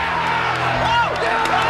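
Wrestling arena crowd cheering and whooping steadily throughout, a dense roar of many voices with a shout rising above the din.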